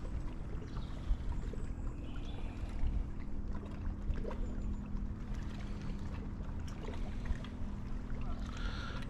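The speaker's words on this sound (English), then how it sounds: "take in the splashing of the water in the lake" Water laps and splashes steadily at a lake shore in the Lake District, a continuous soft wash with faint outdoor ambience and no talking.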